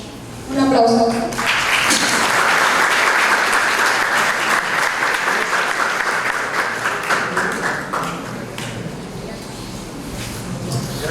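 A lecture-hall audience at a law faculty event gives loud, sustained applause that swells quickly after a brief spoken introduction, then slowly thins out over about ten seconds.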